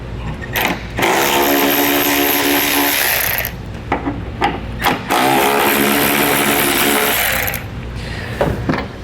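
On a 2022 Ford, a power driver removes two 8mm taillight screws in two loud, sustained whirring runs of about two and a half seconds each, separated by brief handling clicks.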